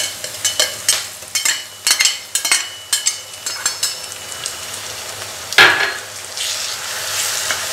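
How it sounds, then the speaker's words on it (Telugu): Fresh mint leaves fry in a hot pan over medium flame for an egg masala curry, a steady sizzle broken by a run of sharp spoon scrapes and clinks against the pan, then a louder hiss as the leaves hit the oil. "పుదీనా పచ్చిగా ఉంటుంది కాబట్టి ఆకుకూరలోని అది ఫ్రై చేసుకోవాలి మంచిగా"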